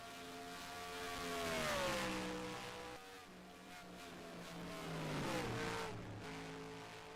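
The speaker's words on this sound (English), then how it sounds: "You can hear Keith Hughes hustling that car around the corner right now." A race car in a racing game sweeps through a corner on Dover Motor Speedway, its engine rising and falling in pitch in two long swells at moderate, slightly distant loudness, with no talk.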